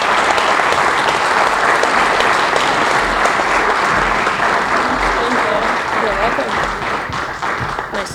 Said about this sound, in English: So give it a round of applause for Kayla.